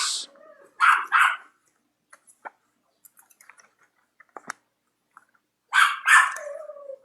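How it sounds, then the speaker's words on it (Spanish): Dogs bark in a few short bursts, loud and fairly close, at the start and again near the end, with sparse faint clicks and taps in the quiet stretch between. "Los perros han estado dando lata todo el tiempo."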